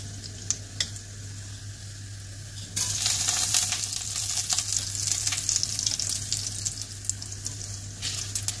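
Cumin and coriander fry in oil with black pepper, a soft sizzle that grows louder partway through, with light stirring and occasional small clinks of a spoon against the pan.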